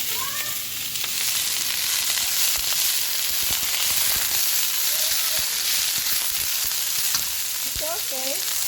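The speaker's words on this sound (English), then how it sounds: "Cooking pichay. Ginisang pichay with egg" Ginisang pechay with egg sizzles and fries steadily in a pan, a dense, constant crackle close by, with occasional scraping stir sounds and faint background chirps.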